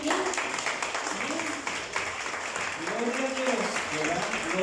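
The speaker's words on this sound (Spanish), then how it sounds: "Vamos a darle un aplauso al Señor" A church congregation claps steadily and fairly briskly, while voices sing or call out over the clapping all the way through.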